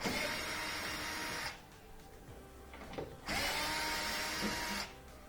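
A power drill whirs in two sustained bursts of a few seconds each while removing 3/4-inch screws from a Whirlpool washer, separated by a quieter pause with faint clicks and handling noise.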